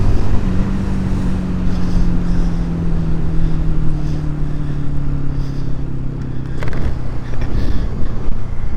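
A Honda CD200 motorcycle engine drones steadily while riding, with a loud low hum that falls slightly in pitch and a brief change near the end, heard close amid heavy wind rush.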